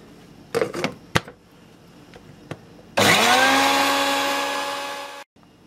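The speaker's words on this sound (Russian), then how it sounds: "Добавляем оливковое масло и продолжаем взбивать." An electric blender whips Yemeni green hot sauce with olive oil, loud steady whirring that runs for about two seconds and then stops abruptly, after a few scattered knocks and clatters.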